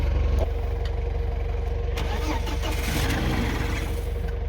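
A Volvo car engine modified to run air-cooled and air-lubricated cranks and catches, settling into a loud, steady, low throbbing run close by.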